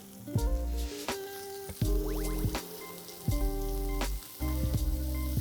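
Chopped onion added to hot oil already holding garlic, ginger and green chili sizzles in several bursts, separated by brief clatters of a utensil against the pan, with no talking.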